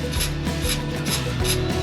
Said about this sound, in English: with very minimal wet sanding.